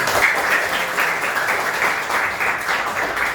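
A classroom group applauds together during a morning guidance-counseling session, the dense clapping steady and fairly loud from start to finish with no voices over it.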